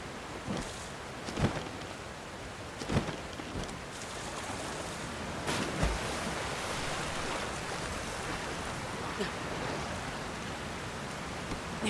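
A steady broadband rush of falling water from a waterfall in the game Tears of the Kingdom, constant and fairly loud throughout, with a few brief soft knocks on top.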